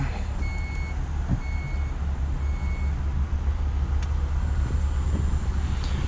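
Steady intermittent beeps sound over a low engine idle as the rear ramp of a new 2026 Chrysler Voyager mobility van closes, with the rumble running throughout and a few faint knocks.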